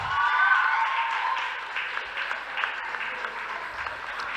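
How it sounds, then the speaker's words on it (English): Crowd at a school debate clapping for a speaker, sustained dense applause that swells early and then softens slightly, with faint voices mixed in. "Clap for her now, kings and queens."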